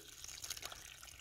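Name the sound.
water running from garden hose adapter on IBC tote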